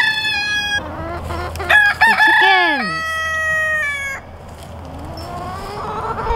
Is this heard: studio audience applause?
no